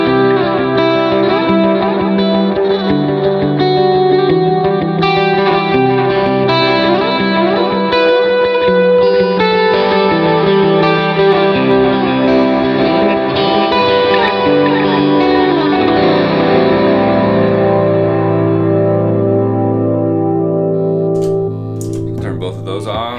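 Electric guitar played through quarter-note and dotted-eighth delays together, sustained chords and picked notes smearing into dense repeating echoes that ring on steadily throughout, fading slightly near the end.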